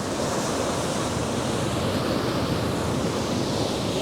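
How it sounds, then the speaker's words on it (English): Ocean waves crash and wash against the rocks below a cliff edge in daytime, a dense, loud and constant roar of surf mixed with wind, with no talking. "well out of the way of the crashing waves"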